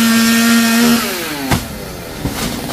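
A chainsaw cutting coconut trees runs loud and close with a steady buzzing drone, then winds down in pitch, followed by a couple of sharp knocks.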